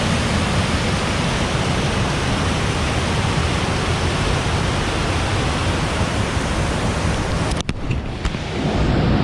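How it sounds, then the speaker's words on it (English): Roaring waterfall swollen by heavy rain in Tucker County, West Virginia, a dense constant rush of heavy water close by, loud and unbroken, with a brief disturbance near the end. "all the waterfalls down here are absolutely raging right now"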